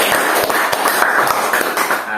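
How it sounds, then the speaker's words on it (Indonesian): An audience applauds at a farewell-and-welcome gathering, with fairly close, loud and steady clapping running the whole time under a continuous murmur of voices. "Tapi tepuk tangan dulu dong buat sampai dulu."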